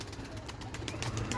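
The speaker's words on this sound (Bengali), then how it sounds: "তো কবুতরগুলা মুখ খুলে দেওয়া হয়েছে" Pigeons freed from their cages coo and stir together at close range, with a steady mix of soft calls and brief rustling bursts that could be wings.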